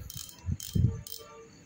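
A used Japanese fishing reel with a wooden handle knob is cranked by hand, giving a few quick soft mechanical clicks and a smooth whirring rattle, close by with no talking.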